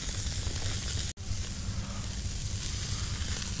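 A steak grilling over hot coals outdoors sizzles with a steady, loud broadband hiss that cuts out for an instant near the start and then carries on alone.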